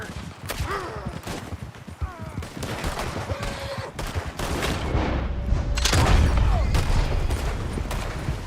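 Gunfire bursts from a Red Dead Redemption 2 shootout, repeated rifle and pistol shots cracking in irregular volleys near and far, over rumbling hoofbeats and shouted voices.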